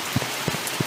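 Steady rain patters across a surface in The Mortuary Assistant video game, with a few soft low thumps breaking through the hiss of the downpour.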